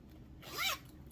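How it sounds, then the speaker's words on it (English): A zipper on a bag's lined zipper pocket is pulled in a single quick rasping zip of about half a second, close and fairly clear over a steady low room hum. "it's also got a zipper pocket here"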